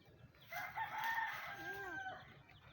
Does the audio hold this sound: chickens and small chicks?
yes